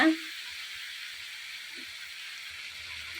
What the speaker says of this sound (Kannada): ಹಾಗೆ ಈ ಎಣ್ಣೆ ಒಳಗಡೆ ಈ ಟೊಮೊಟೊ ಎಲ್ಲ ಬೇಯಬೇಕು.